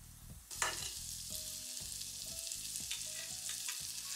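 Butter for a vegan spaghetti sauce hits a hot pan with a sudden sizzle that then holds as a steady crackling fry close by, with a few light stirring knocks, no talking.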